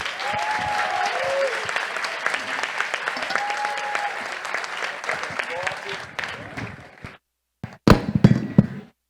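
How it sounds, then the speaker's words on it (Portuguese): Audience applause at a Black theatre event fills most of the recording, sustained dense clapping near and loud, then it thins and breaks off near the end before a few final claps. "Vamos aplaudir mais, gente."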